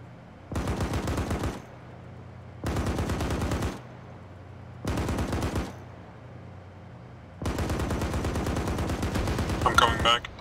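Bursts of automatic machine gun fire in the video game ArmA 3, four long loud rattling volleys of roughly one to two and a half seconds each separated by short pauses, the last one longest and ending in sharper cracks.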